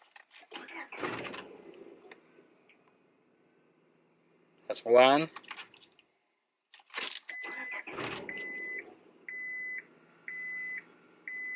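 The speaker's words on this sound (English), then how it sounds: "Start the engine 3 times." A car engine cranked and started during an OBD2 scanner battery test, with keys jangling, a short loud cranking burst, then another start followed by repeated electronic beeps; someone speaks between attempts.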